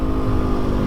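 A Honda CRF 450 supermoto motorcycle riding through tight curves, its single-cylinder engine buzzing loud and close in one brief, steady snarl with no voices.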